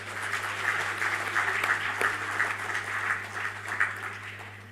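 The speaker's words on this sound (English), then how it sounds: "Please give them all a big round of applause." A graduation ceremony audience applauds award recipients with a moderate, continuous patter of many hands over a low steady hum from the hall's sound system, sustained for nearly five seconds.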